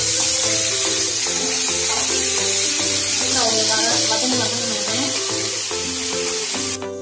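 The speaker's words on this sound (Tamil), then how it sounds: "கடுகு உளுத்தம்பருப்பு போட்டு தாளிச்சிடுங்க." Mustard seeds and urad dal sizzle in hot tempering oil, a steady bright hiss that runs the whole time beneath prominent background music.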